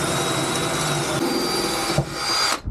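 A power driver whines steadily as it drives self-tapping screws with 8mm heads into metal while fitting a Chinese diesel heater, with a brief change in pitch near the end before it stops.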